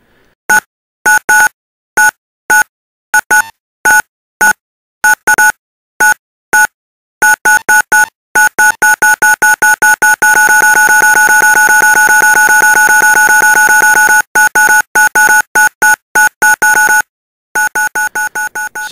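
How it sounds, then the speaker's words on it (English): Electronic phone keypad tones play in a techno rhythm, loud and close. Sharp beeps come first in spaced bursts, then quicken into rapid runs and a long unbroken tone before choppy pulses return. "techno phone dialing."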